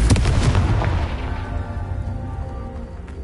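A Confringo fire spell from Hogwarts Legacy explodes in a heavy, booming blast at the start, its deep rumble slowly decaying into a long fading tail, with no voices over it.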